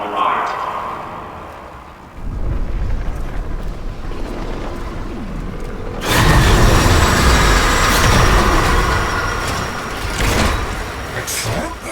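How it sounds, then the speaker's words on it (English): A train pulls into a station in the Warframe game, its rumble growing louder around the midpoint and holding steady, with mechanical rail noise over a background hum. "The next train is arriving."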